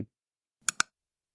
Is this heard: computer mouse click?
yes